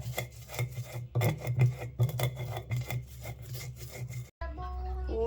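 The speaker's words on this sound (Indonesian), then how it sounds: "Dan ini kita masukin bawang merah bawang putih, kita ulek aja sampai halus." Shallots and garlic ground with a mortar and pestle: close, rhythmic rasping and rubbing strokes with dull stone knocks, then an abrupt cut to quieter clatter.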